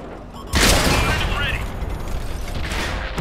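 Artillery fire in a tank battle video game: a heavy blast lands after half a second of quiet and is followed by a dense, sustained rumble of shots and impacts, with voices talking over the din.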